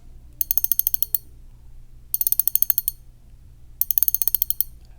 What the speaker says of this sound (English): And here is the sound of the 1000 size